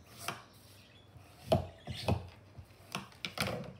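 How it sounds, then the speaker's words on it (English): Scissors pressed along folded paper to crease it, giving a few short, scattered scraping rubs separated by quiet pauses. "Crease it with my scissors."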